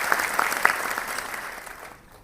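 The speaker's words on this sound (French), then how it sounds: "je vous demande d'applaudir." An audience at a prize ceremony for clean-village contest winners applauds with a moderate wash of clapping, a few sharper claps standing out before it dies away at the end.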